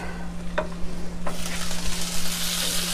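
Meat and sausages frying in a pot for chili, a loud close sizzle that swells partway through, with a couple of sharp scrapes and clinks from stirring and no talking.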